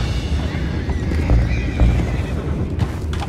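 A horse in the video game Red Dead Redemption 2 gives a loud whinnying neigh with hoof clip-clops mixed in, set against a busy rumbling game soundscape.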